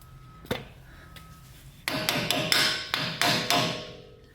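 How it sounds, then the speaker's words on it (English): A metal dust cap is tapped onto the front wheel hub of a 2005 Toyota Tacoma 4WD: one sharp knock, then a quick run of about six ringing hammer taps, close and alone. "Carefully after that, tap on this dust cap."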